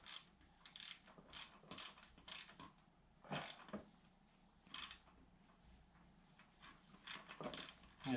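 A ratchet wrench loosening the transmission oil drain bolt on a Harley-Davidson motorcycle, with a series of quick, quiet clicking ratchet strokes coming in short bursts with pauses, close up and without speech.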